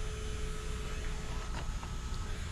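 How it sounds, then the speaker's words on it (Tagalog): A small electric mini fan hums steadily and quietly at close range, a faint constant motor whir with a thin tonal whine and no speech. "Mini fan"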